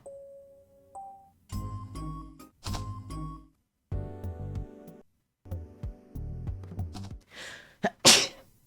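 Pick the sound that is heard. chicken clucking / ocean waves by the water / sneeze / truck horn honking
sneeze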